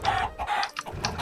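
Chickens in Minecraft cluck in short, close bursts, several quick clucks in a row with brief gaps between them.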